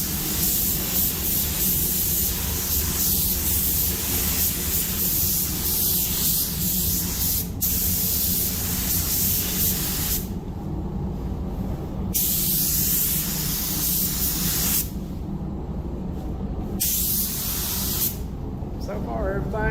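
A spray gun lays base coat paint on a 1960 Impala in a loud, continuous hiss, broken by several short pauses between passes.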